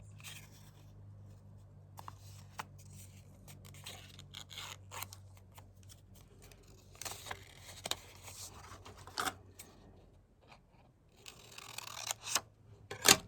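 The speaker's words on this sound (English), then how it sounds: "Then I'm going to cut it in the middle." Scissors cutting fabric down the middle for fabric cluster crafting: a quiet run of crisp snips and rustles at close range, irregular and intermittent, with soft handling noise between cuts.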